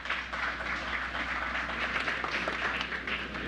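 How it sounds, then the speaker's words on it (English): Steady, moderately quiet applause from an audience, a continuous patter of clapping with no voices. "all involved in this project deserve a round of applause for making it happen"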